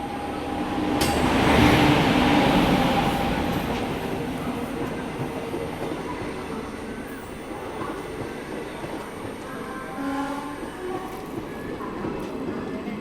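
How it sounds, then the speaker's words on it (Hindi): A train passes through a station behind a WAP7 locomotive, rumbling past with a steady rolling roar of wheels on rails, loudest early on and then settling into a continuous clatter. "किसी गाड़ी का अराइवल हो रहा है यहाँ पे"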